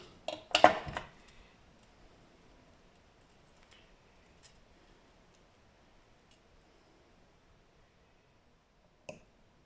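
A metal jewellery chain is snipped in two with a small cluster of metallic clicks and snaps near the start, then near silence and one more faint click at the end.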